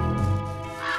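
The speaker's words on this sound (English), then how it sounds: "There's a crow in the foreground." A crow in a cat adventure game gives a single loud, close, harsh caw that trails off, with a brief rough tail toward the end.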